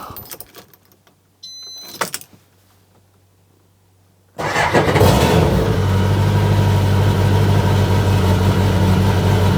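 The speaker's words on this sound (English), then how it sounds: "and start the engine" Engine of a Grinnall Scorpion car starting from cold with the choke slightly on: a few quiet clicks, a starter whir, then the engine catches abruptly and settles into a loud, steady, close idle.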